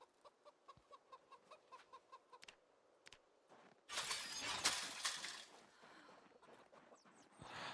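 Chickens cluck in a hutch in the video game Project Zomboid, a run of soft rhythmic clucks. A louder rustling, clattering burst follows, with more faint clucks afterward.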